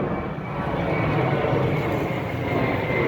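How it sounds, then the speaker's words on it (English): An airplane passing close overhead near an airport, a steady broad roar of jet engine noise, loud and continuous with no break, no voices over it. "Look at that plane!"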